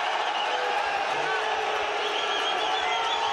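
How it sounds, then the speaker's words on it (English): Large stadium crowd at a Leinster versus Bulls rugby semi-final voices its displeasure in a steady, dense wash of murmuring and jeering that holds at an even level throughout, with no single voice standing out. "the crowd are certainly let it be known that they're unhappy"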